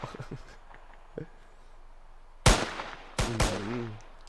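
Video game gunfire in Squid Game's Red Light Green Light map: a few sharp, loud shots after a quiet stretch, with faint voices and clicks early on.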